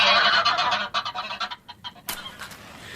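A goose honks repeatedly in loud, rapid cries as a sound effect in a BBC radio drama of Sherlock Holmes, the honks fading into sparser calls with a sharp burst near the end.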